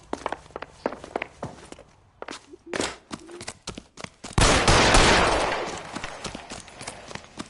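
A single gunshot-like bang in the 1940s Los Angeles detective game LA Noire, a sudden loud blast that rings out and decays slowly, preceded and followed by scattered footsteps and movement.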